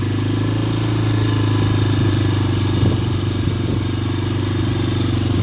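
Motorcycle engine droning loud and steady while riding off-road through brush in the Tularosa valley, with faint rattles and clatter; no distinct gear shifts stand out.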